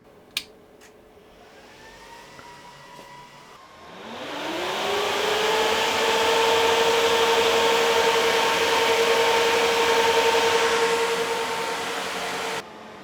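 A Sun Fire X4600 M2 server starts up: after a couple of small clicks, the fans spin up with a rising whine into a loud, steady whirring roar that holds for several seconds before dropping slightly.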